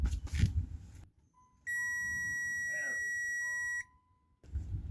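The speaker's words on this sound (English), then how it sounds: "I'm doing it one more time, that way you guys can hear a beep" A single sustained electronic beep from a power probe tester rings for about two seconds, bracketed by muffled handling noise before and after, while testing the fuel pump circuit of a 1993 Cadillac Fleetwood.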